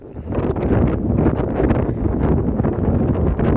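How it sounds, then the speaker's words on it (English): Steady, loud wind buffeting the microphone on an evening hike along the Pennine Bridleway, a continuous broadband roar with gusty surges and no voices. "it's turning into a very windy evening"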